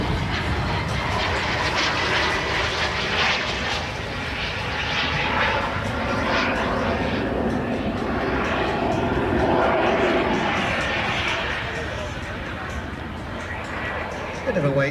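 A large 89-kilogram model Vulcan jet flies at the Elvington airshow, its engine roaring steadily with a slow rise and fall across the whole stretch, while a commentator talks over it.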